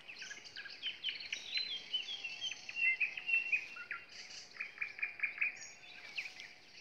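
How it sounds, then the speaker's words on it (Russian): On a May evening in a village, a nightingale sings among other birds, with rapid chirps, whistles and trills repeating in quick phrases at moderate distance over a faint, steady background. "Где-то здесь живет соловей."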